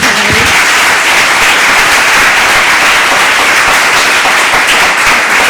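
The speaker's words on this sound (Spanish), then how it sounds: "Fort d'aplaudiment ara, sí." Loud, dense applause fills a university audiovisual talent pitching event, a close, continuous roar of clapping with no voices over it.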